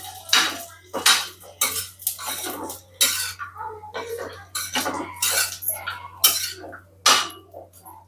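Coconut dry-roasting in a pan, with loud, close scraping and clattering strokes of a spatula against metal in an irregular rhythm over a low steady hum.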